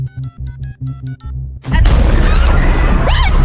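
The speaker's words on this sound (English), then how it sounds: "A second explosion goes off." A loud cartoon explosion bursts in a Family Guy scene, a heavy booming roar that cuts off a preceding musical phrase and rumbles on, sustained and close, with whooshing debris sounds layered over it.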